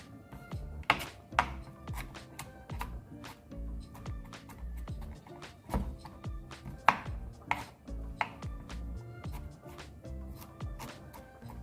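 Knife chopping garlic cloves on a cutting board for Jamaican stew peas with pigtail, a steady run of quick, close, sharp chops with brief pauses between bursts.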